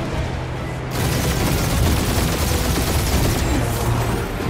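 Dense, continuous gunfire from a spaceship battle aboard the Milano in the video game Guardians of the Galaxy, loud and sustained. The rapid shots blur into a steady barrage with slight swells, and no speech is heard.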